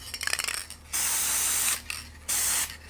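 A Rust-Oleum spray paint can, used while making a mirror for a pinball backglass restoration, gives two long, loud hissing bursts close up, each about a second, after some rattling and clicking.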